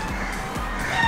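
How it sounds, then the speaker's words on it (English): Chickens cluck nearby in short repeated bursts, a quick rhythmic series of clucks close at hand. "These are the chickens from our neighbor."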